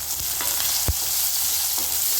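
Onions with fennel powder frying in a pan, giving a steady sizzle with a few soft knocks from stirring and one sharper thud partway through; no voices.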